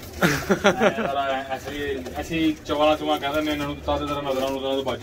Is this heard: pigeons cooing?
yes